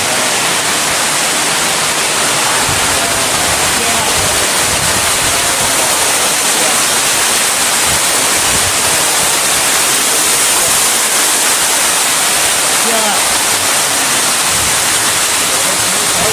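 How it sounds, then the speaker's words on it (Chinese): A waterfall inside a cave roars with a steady, dense rush of falling water that fills the whole stretch at an even, loud level, with no talking over it. "今天这段时间呢，就交俾大家静静的欣赏洞中瀑布了"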